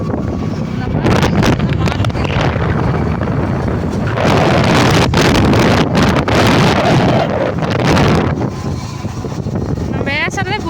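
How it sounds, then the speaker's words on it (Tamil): Strong wind roars across an open paddy field, buffeting the microphone with continuous loud rumbling gusts that swell and ease, while a voice is faintly present beneath. "காற்று அவ்வளோ காற்று."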